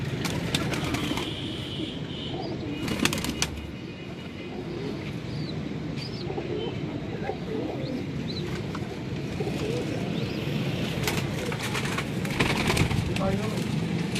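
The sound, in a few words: pigeons cooing at a pigeon club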